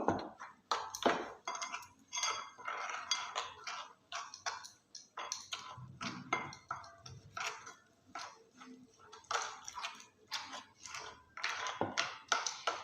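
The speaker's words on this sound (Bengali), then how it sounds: "এবার আমি জল দিয়ে ব্যাটারটা রেডি করে নেব সুন্দরভাবে ফেটিয়ে নেব" A utensil whisks gram flour batter with water in a bowl for chicken cutlets, making a steady stream of quick, light clinks and taps against the bowl. The clinking stays close and brisk, with a faint voice now and then.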